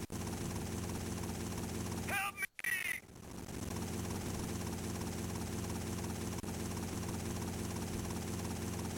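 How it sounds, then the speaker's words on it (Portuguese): A helicopter flies steadily in the GTA Vice City Stories game, its continuous rotor and engine drone filling the scene, briefly cut out by a short gap before resuming. "Isso aqui é um helicóptero,"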